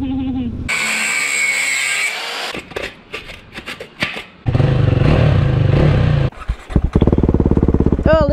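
A Yamaha Tenere 700 or KTM 390 adventure motorcycle roars loud and close in bursts, revving and idling between gaps with clattering mechanical noise, and no speech over it.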